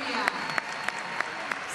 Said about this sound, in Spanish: reciben hasta ahora, podemos decir, la ovación más fuerte de la noche